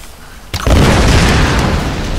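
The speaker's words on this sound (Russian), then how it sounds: "Взрыв." A loud boom from an in-game explosion in Tomb Raider (2013): a sharp blast hits after a brief quiet lead-in, then a heavy rumbling roar sustains and slowly fades, with no speech.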